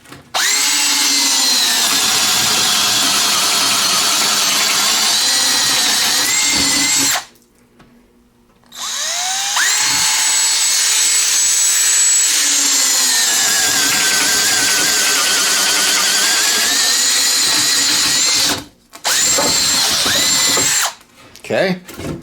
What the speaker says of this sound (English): Just chews that wood up.